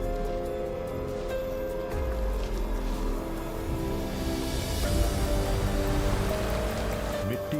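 Acid rain pours down as a dense, steady hiss of falling water, loud and continuous throughout with a broad wash of droplets and no pauses.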